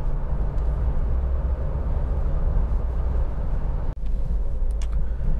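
Inside a 2018 Honda WR-V 1.5 EXL CVT on the move, a constant low road and tire rumble fills the cabin, steady throughout with one brief thump near the end.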